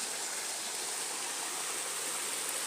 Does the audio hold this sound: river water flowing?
yes